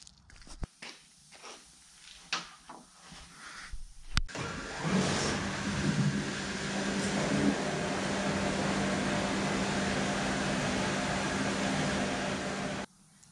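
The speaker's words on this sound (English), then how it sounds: "So we'll start wet blasting" After a few clanks and handling knocks, a hydroblaster starts wet blasting motorcycle spokes with a steady loud hiss and hum of spray and compressed air that runs evenly for about eight seconds, then cuts off.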